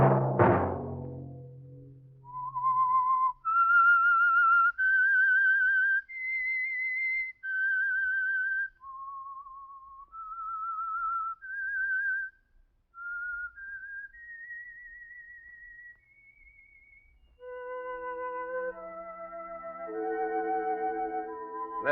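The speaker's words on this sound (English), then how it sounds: "Let that whistle be your signal" A clear, melodic whistled tune rises and falls alone, followed by a sustained orchestral chord.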